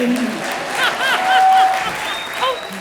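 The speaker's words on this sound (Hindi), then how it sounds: "जोरदार तालियां" A studio audience claps during the Comedy Circus TV comedy show, a short, moderately loud burst of applause with faint voices mixed in.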